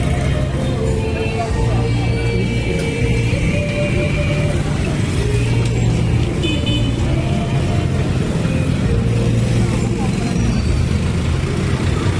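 Congested street traffic in front of Ilaya Plaza Liga Pilipina in Tondo, Manila, a loud, continuous roar of car and bus engines close by, with indistinct voices mixed in.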